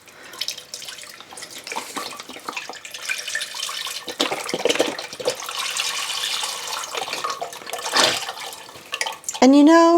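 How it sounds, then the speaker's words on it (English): Beef broth, four cups, pours steadily into a cooking pot, a continuous splashing liquid stream running for several seconds, with a brief clank and a voice talking near the end. "I'm going to add in 4 cups or a quart of beef broth."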